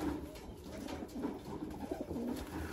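Low, throaty coos from a young racing pigeon at a loft after a race, repeating in soft rolling bursts with steady faint background noise and no voices.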